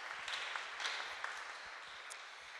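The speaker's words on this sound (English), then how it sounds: "I would like to ask you to make an applause to them" An audience at a panel event on deep cables and cable breaks applauds, a steady even wash of clapping held at a moderate distance with a few sharper claps standing out.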